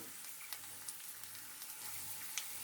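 Potatoes frying in a pan give a steady, quiet sizzle with scattered small pops and crackles, close by and without talk.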